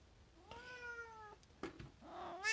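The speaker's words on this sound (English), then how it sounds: "Seriously, cat!" A house cat meows, one long drawn-out call followed by shorter chirpy mews and a rising cry at the end, close and clear in a quiet room.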